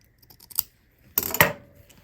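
Scissors snip through hem tape at a sewing table: a quick light snip, then a louder, longer crisp cut with a sharp click about half a second later, then quiet.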